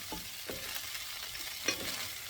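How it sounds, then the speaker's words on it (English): Shrimp frying in a pan for spicy ginger and garlic shrimp, a steady close sizzle with a few sharper stirring clinks and scrapes, no voices. "we are going to cook the shrimp"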